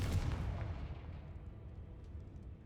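A Confringo spell explosion in the video game Hogwarts Legacy booms at the start, then fades into a long, low, decaying rumble.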